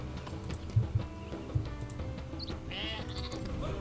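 Sheep bleating in the Northgard video game, several short bleats over a busy game soundscape with light hoof-like clops and background music, no talking.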